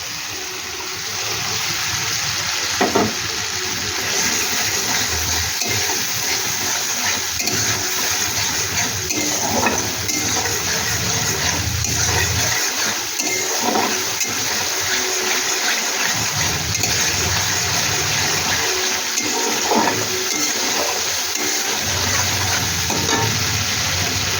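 Flour-and-lentil fritter batter fries in a pan with a continuous loud sizzle, broken by occasional stirring clatter over about twenty seconds.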